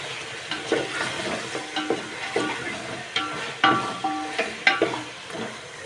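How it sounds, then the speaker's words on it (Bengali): Mint leaves stirred into mutton pulao frying in a pan, a steady sizzle under repeated scraping strokes of a spoon, close and moderately loud with no talk. "এখানে অল্প করে পুদিনা পাতা দিয়ে দিচ্ছি।"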